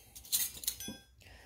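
Metal forks clinking together as they are wrapped and packed away, a quick cluster of bright close jingles and taps followed by a soft rustle and fading clatter.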